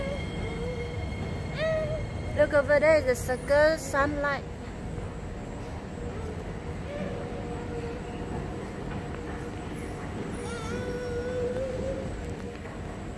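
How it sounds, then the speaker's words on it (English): An MRT metro train arrives at a station, rumbling nearby with squealing wheels and a burst of high whines, while people talk over the steady rolling noise. "Wow, the train is coming."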